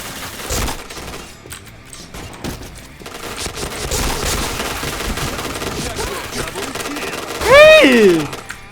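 Rapid gunfire bursts from the shooter video game Point Blank crackle in sharp repeated volleys, with a voice talking over the game sounds and a louder rising effect near the end.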